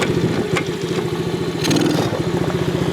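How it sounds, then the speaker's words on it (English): A Venom 125cc Python four-stroke gas ATV engine running in reverse gear, a steady close putter with a slight rise in revs partway through, loud and continuous with no talk. "I've now put the bike in reverse, and now we can go backwards."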